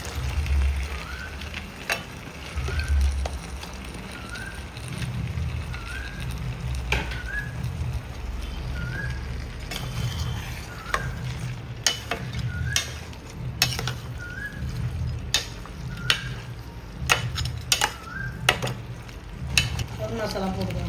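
Goat head meat frying in a pan with ginger-garlic paste, a continuous sizzle with repeated scraping and stirring strokes of a metal spoon, close and steady, with sharp clinks against the pan toward the end.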